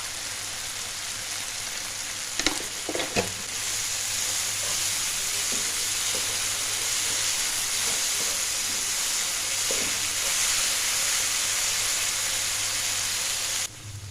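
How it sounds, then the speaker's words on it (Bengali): Spices sizzling steadily while sautéed in a pan for masala bhindi, a dense continuous hiss of frying with a few faint stirring knocks near the start. "এবার মশলাগুলো ভালো করে কষে নেব।"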